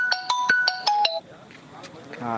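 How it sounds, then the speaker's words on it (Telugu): A mobile phone ringtone plays a bright repeating melodic tune of several quick notes, then cuts off, recorded live amid the noisy bustle of the Khammam chilli market. "ఫోన్ వస్తుంది"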